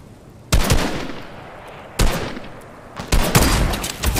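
Loud bursts of gunfire in a sniper-focused shooter game as a player shoots at a wall: three separate volleys of rapid, punchy shots, each trailing off briefly before the next one starts.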